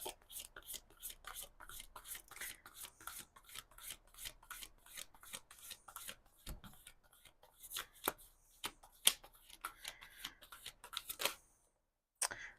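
Tarot cards are shuffled close and softly in a quick rhythmic run of riffling flicks, then slower scattered taps and rubs near the end, with no voices.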